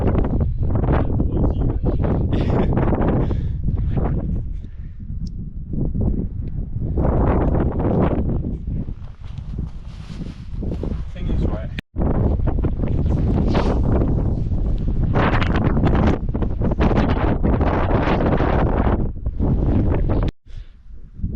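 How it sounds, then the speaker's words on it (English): Strong gusting wind buffets the microphone while scrambling on a Scottish hillside, roaring loud and close in uneven surges with a couple of sharp knocks. "it is getting quite windy"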